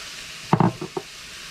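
Chunks of potato and sweet potato drop into a hot sizzling pan for soup, giving a few quick close thumps and scrapes over a steady frying hiss.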